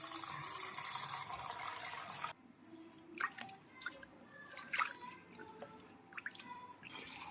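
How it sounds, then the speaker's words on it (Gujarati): Water drips and trickles into a vessel as lentils (dal) are rinsed, first a steady hiss of pouring, then sparse, close splashes and drips with no talk. "આપણે બધું પાણી કાઢી લીધું છે અને હજી ફરી એકવાર આપણે આને ધોઈ લઈશું"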